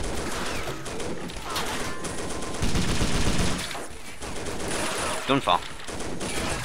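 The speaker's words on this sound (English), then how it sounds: "That is just machine gunning down." Machine gun fire in the World War II game Faces of War chatters through a noisy battle, with a heavier burst midway and sharp shots near the end, and a voice briefly speaking.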